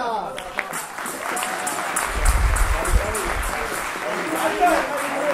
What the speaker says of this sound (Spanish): Así que un aplauso a Marta.